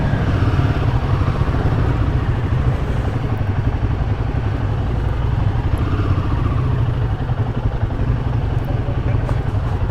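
Fuelled, chain-lubed motorcycles run before a long road trip, a loud steady engine rumble with continuous clattering idle throughout.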